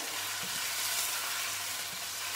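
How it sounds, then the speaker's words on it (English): Pork belly searing in a hot pan for a braised Chinese casserole, giving a steady close sizzle and crackle with faint stirring, no voices. "I'm just going to let that sear."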